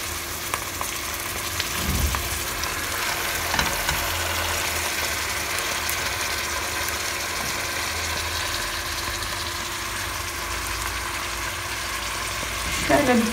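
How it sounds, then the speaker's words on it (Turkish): Steady sizzle of herbs frying with onions in olive oil in a pot, a continuous crackling hiss at close range with a few knocks of utensils against the pot. "şifalı otlarımı tencereme koyuyorum böyle"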